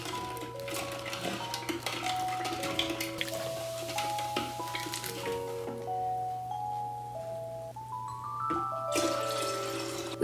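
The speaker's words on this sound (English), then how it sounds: "Next, you're gonna add about half the bottle of Sprite." Sprite poured from a bottle into a bowl of pink punch with pineapple juice, a continuous fizzy splashing stream running close and steady, with a low constant hum and musical tones underneath.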